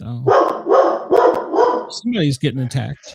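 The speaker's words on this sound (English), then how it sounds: "Sorry, that's my dog." A pet dog barks several times in quick, loud bursts close by, with a person talking over and between the barks indoors.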